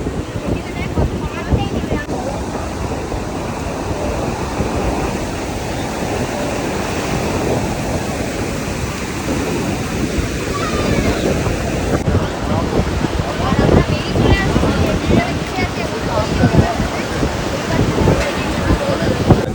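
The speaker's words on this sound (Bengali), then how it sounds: "বাট ভালো লাগছে কি পরিমাণে জল। দেখে সেরে পা অব্দি জল চলে আসছে।" Sea waves wash up to the feet on a shoreline, a steady rushing surf mixed with gusting wind buffeting the microphone, loud and close throughout.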